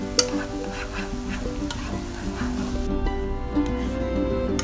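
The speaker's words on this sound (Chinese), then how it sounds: "倒入鸡蛋液， 把鸡蛋在锅中炒香，然后用筷子给它捣碎" Beaten egg frying in a wok for carrot pork dumpling filling, stirred and broken up with chopsticks; a steady close sizzle with a few light taps, overlaid by faint music.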